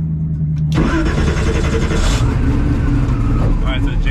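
A drag race car at the TX2K22 event fires back up after losing crank signal, its engine catching abruptly and then idling loudly and roughly, with people talking over it.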